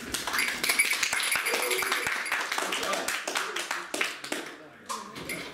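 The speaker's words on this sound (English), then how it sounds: "Everybody give him a round of applause" A classroom group applauding a student, scattered sharp claps that rise into a short ragged round and then thin out into a few isolated claps, with talk mixed in.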